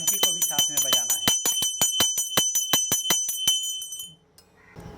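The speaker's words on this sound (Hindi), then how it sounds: "घंटी को भी साथ में बजाना है।" A hand bell rung during a Shiva aarti, struck in a rapid, steady series of bright, close rings that stop near the end, leaving quiet room sound.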